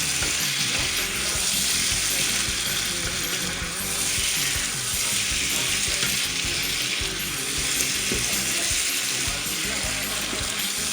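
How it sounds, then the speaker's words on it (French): Sliced tomatoes fry and sizzle loudly in a hot pan over high heat as they are stirred, a continuous close crackle with occasional scraping of the utensil and no voices. "bien mélanger les tomates"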